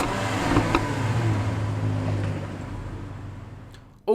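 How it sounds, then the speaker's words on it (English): A 2017 Jaguar XJ engine turning over and settling into a steady low idle, heard close with a continuous rumble before cutting off abruptly at the end. "let's start up this engine here so that you can hear that"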